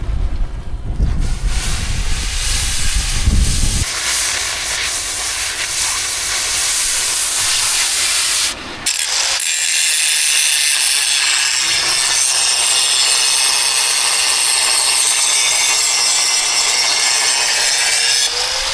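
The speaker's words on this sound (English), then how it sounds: "We're gonna get this thing super cleaned up, ground down. You go through and grind this all down." An angle grinder works down welded steel tube on a buggy frame, giving a loud continuous harsh whine and scraping hiss that runs nearly unbroken, with a brief pause partway before resuming at a higher, brighter pitch.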